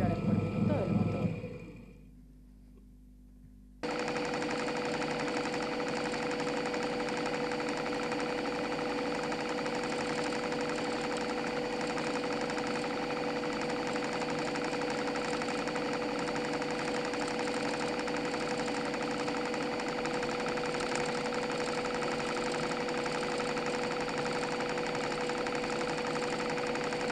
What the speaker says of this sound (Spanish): Programación de Arduino para el avance progresivo de las revoluciones por minuto del motor.